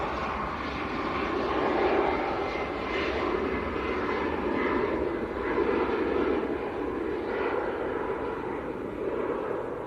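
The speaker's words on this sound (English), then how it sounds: "A Ryanair Max, he's going down to Malaga." A Ryanair Boeing 737 Max jet bound for Malaga passes at Manchester Airport. Its engines make a steady, broad roaring rumble that holds throughout at moderate distance.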